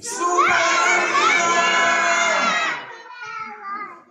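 A crowd of children at a live show shout one word together, a loud sustained group yell that holds for over two seconds and then trails into scattered voices.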